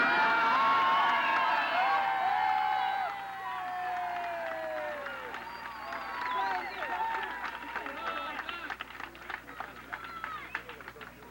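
Election night crowd in Massachusetts cheering and chanting with whistles during a speech, loud at first, then dropping to scattered shouts and clapping under a voice.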